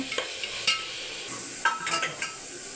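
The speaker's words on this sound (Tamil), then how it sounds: "கரம் மசாலா கொஞ்சம், அப்புறம் பிரியாணி மசாலா கொஞ்சம் போட்டு நல்லா வதக்கிட்டு," Masala with onion and tomato being sautéed for prawn biryani, a soft sizzle with intermittent stirring scrapes and a few louder clinks from the pan, close and moderately quiet with no talking.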